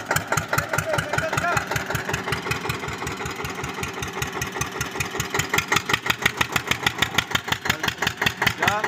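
An Eicher tractor, stuck, runs with a steady, rapid chugging beat from close by that stays loud and even throughout, with a faint hint of voices in the background.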